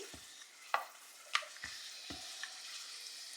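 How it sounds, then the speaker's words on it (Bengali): Puris frying in hot oil, with a faint steady sizzle broken by a few sharp clanks and splashes as the dough is dropped in and turned. "এবার জাস্ট আমি পুরিগুলো ভেজে নিচ্ছি"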